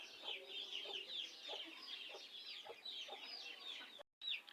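A sick hen with a fever clucks repeatedly in a steady series of short calls, close by and fairly loud, with other birds chirping in the background and a brief dropout near the end.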